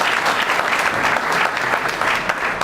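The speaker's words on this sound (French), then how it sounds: "Des encouragements et des applaudissements" Applause and cheering for Thomas at a regional crafts medal ceremony honouring tractor and farm machinery maintenance, a continuous dense burst of clapping from a crowd.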